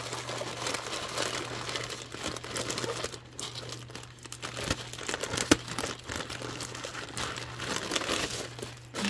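Crinkling and tearing of packaging and tape as items stuck at the bottom are pulled free, a quiet, close, steady rustle with occasional sharper crackles and no talking.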